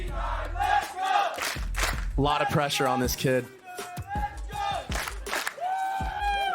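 A live esports arena crowd at a Valorant VCT Americas Kickoff match between Cloud9 and Made in Brazil roars and chants in loud, surging waves, with commentators talking over it throughout.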